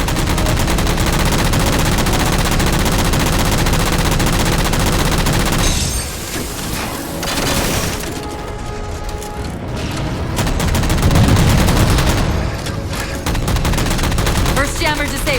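Heavy, continuous gunfire in Halo 4 as jammers are shot down, loud sustained automatic bursts that briefly thin into scattered shots and booms before resuming at full intensity.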